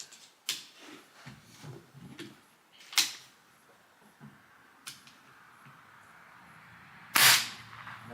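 An Umarex Komplete NCR air rifle fitted with a Notos cylinder fires outdoors in cool weather, a few sharp separate cracks spaced irregularly, the last one loudest, with quiet handling noise between.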